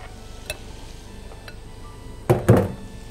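Shrimp cooking in a pan with paprika and cumin: a soft background sizzle broken by a few light utensil taps, then two louder scraping clatters of stirring against the pan.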